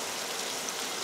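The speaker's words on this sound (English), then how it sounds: "let me wash my hands." Steady rush of running tap water while hands are washed in a kitchen during cooking, a continuous close hiss with no talking.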